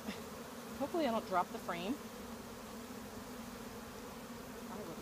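Honey bees from a nuc box swarm around a hive frame in a steady, close, droning buzz that runs the whole time, with a person talking briefly over it near the start.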